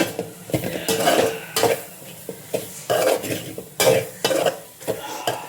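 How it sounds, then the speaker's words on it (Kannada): Coconut, tomato, onion and garlic frying together in a pan for chicken curry, with repeated scraping and clinking of a spoon stirring against the pot over a low sizzle, close and fairly loud. "ನಾನೀಗ ಇದಕ್ಕೆ ತೆಂಗಿನಕಾಯಿ, ಟೊಮ್ಯಾಟೊ, ನೀರುಳ್ಳಿ, ಬೆಳ್ಳುಳ್ಳಿ ಹಾಕಿ ಫ್ರೈ ಮಾಡ್ತಾ ಇದ್ದೇನೆ"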